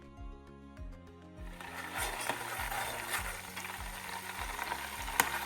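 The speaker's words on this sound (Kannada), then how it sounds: "ಪೂಜೆಗೆ ಅಂತ ಸಪ್ರೇಟಾಗಿ ತುಪ್ಪ ಮಾಡ್ತಾ ಇದ್ದೀನಿ." Butter simmering in a pan to make ghee for a puja, giving a steady bubbling crackle that builds and holds at moderate loudness, with a low rhythmic thudding from a background melody.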